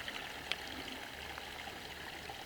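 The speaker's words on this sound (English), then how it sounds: "water is flowing nicely coming along here in this drain, taking all the water down" Water runs steadily down a drain at an outdoor construction site, a faint continuous rushing trickle with one brief splash near the start.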